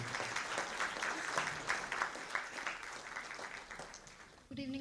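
Audience at an Independence Day literary evening at the Embassy of India in Kuwait applauds as a singer comes to the mic, a steady round of clapping that fades before a brief sound at the end.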